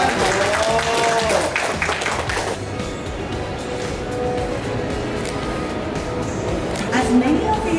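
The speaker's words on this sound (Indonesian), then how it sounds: "Tepuk tangan lagi dong teman-teman." After a ribbon-cutting at the opening of a Red Wing shoe store in Indonesia, the guests clap in a steady wash of applause, with chatter and a few voices mixed in.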